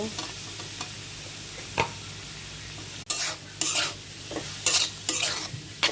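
Chopped tomatoes going into a pan of boiled cabbage noodles and being stirred, with scattered scraping strokes and soft sizzling that grow busier and louder in the second half.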